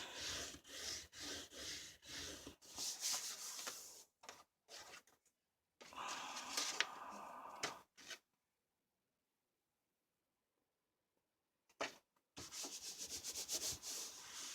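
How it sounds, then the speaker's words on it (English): A small hand tool burnishes paper for a Christmas mini album, making close, dry rubbing strokes in quick bursts, then a long silent pause before the scraping starts again. "Burnish."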